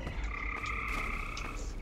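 An antlion grub in Half-Life 2 gives a thin, high squeaking chirp, repeated in a few short pulses over a low background hum.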